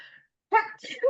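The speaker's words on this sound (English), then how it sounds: "I'm about to sneeze" A single close sneeze from a woman recovering from laryngitis: a short breathy intake, a pause, then a sharp voiced burst trailing into a second exhaled sound.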